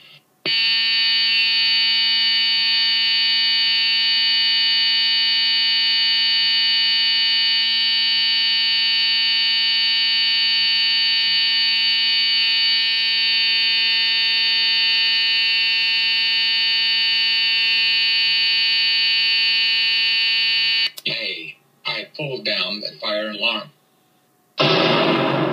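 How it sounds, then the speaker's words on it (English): Building fire alarm sounds loudly and steadily for about twenty seconds, a continuous harsh tone, then cuts out as voices break in near the end. "how dare you pull down the fire alarm?"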